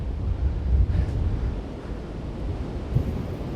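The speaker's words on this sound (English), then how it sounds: "It's windy." Wind roaring steadily and loudly across the microphone on an uphill Appalachian Trail climb toward Blood Mountain, a continuous low buffeting rush with brief gusts and no voices.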